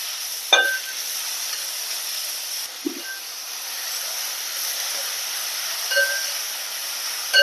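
Ingredients for an egg curry, with salt added, sauté in a pan, giving a steady close sizzling hiss with a few sharp pops and brief stirring scrapes.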